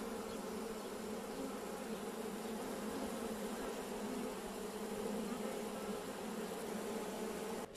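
A honeybee swarm gathers at a hive box in sunlight, a dense, steady buzzing hum from many bees close by, continuous and unbroken throughout.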